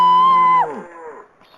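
A single drawn-out moo from a cow in the video game Deer Simulator, loud and near, sliding downward in pitch at the end before trailing off into quiet.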